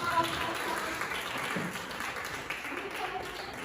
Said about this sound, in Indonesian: Ya, beri tepuk tangan untuk